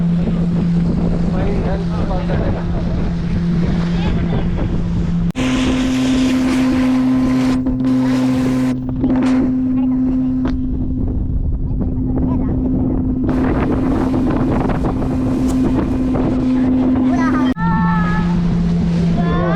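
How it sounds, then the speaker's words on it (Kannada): A motorboat drones loudly and steadily while it rocks on the water of a mangrove forest in Pondicherry, with wind buffeting across the whole stretch. "ಬೋಟ್ ಅಲ್ಲಾಡ್ತಾ ಇದೆ"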